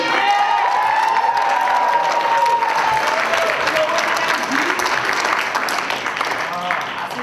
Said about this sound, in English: Give it a big round of applause for Ashley.